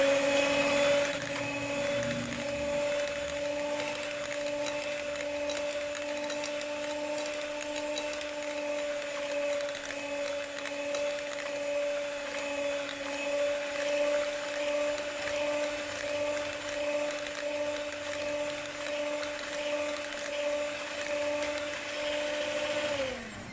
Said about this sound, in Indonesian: Mixer lagi dengan kecepatan rendah sampai semuanya itu tercampur rata.